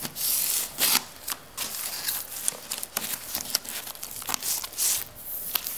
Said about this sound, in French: retire lentement le film du ruban adhésif